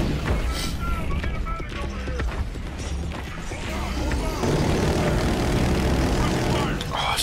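An enemy drone in the PS4 shooter Killzone Shadow Fall hovers with a buzzing, propeller-like whine amid game noise, and someone talks throughout.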